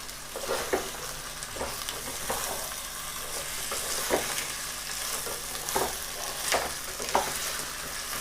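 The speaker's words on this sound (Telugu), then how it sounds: "మొత్తం మనం వేసిన ఉల్లిపాయలు ఈ ఆయిల్ అంతా ముక్కలు పట్టే విధంగా ఒకసారి కలుపుకొని" Onions and chicken pieces stirred in hot frying oil for a Telangana-style chicken fry, a steady close sizzle broken by repeated scraping strokes of the spoon at irregular intervals.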